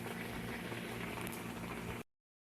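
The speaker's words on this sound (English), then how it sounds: "the barbecue sauce is cooking down. Getting rid of all the liquid so I can get it nice and thick" Barbecue sauce simmers and cooks down in a pan, a close, steady bubbling and popping that runs for about two seconds and then cuts off abruptly.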